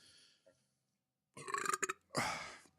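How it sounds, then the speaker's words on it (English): A faint voice, a pause, then two loud, close beer burps, one long and rumbling with a choppy texture, the next short and forceful. "the beer is really burping today"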